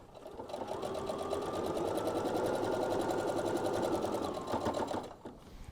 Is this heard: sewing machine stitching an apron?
yes